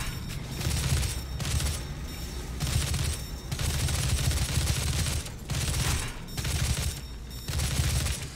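A heavy assault rifle fires in the video game Doom in sustained rapid bursts, each dense rattling volley broken by short pauses, loud and close with a steady repeating rhythm.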